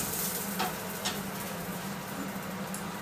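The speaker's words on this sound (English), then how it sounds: "let's fry our banger" Irish-style bangers sizzling in a frying pan, a soft steady crackle and hiss with faint pops, fairly quiet and unbroken, with no voices.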